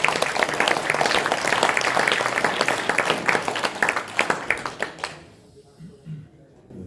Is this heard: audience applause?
yes